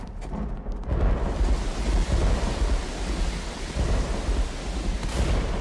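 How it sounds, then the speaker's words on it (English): Rolling thunder with wind and rain-like rumble fills a Left 4 Dead 2 game scene, a continuous loud low roar with swells rather than distinct cracks. "Is that supposed to be thunder?"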